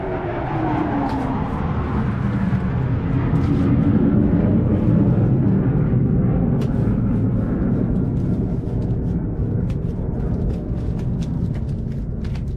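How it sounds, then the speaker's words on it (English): A jet roars overhead, a loud continuous rumble that swells and slowly fades, with no voices present. "Jet just flew over."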